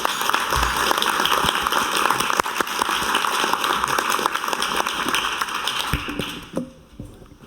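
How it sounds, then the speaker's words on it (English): Sustained applause from an audience fills the room, dense and even, then tapers off near the end as a few last claps fade. "Give her a warm applause."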